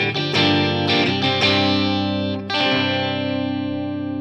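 Clean electric guitar through Gibson 57 Classic pickups in a PRS, both coil pulls up: bright sustained chords strummed several times, with a fresh strum near the middle that rings out loudly, alone.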